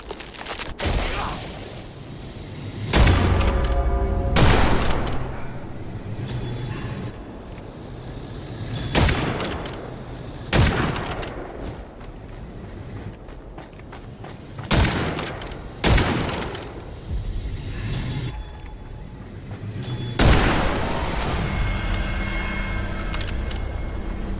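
Gunfire in the video game Witchflame: a string of sharp, loud broadband shots spaced a few seconds apart across a camp fight, each with a brief tail, over a low steady game ambience.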